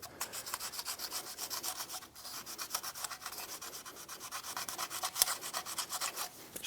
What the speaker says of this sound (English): Using a wire brush, light abrasive, or a piece of sandpaper, go ahead and clean the contact points that the shoe will be hitting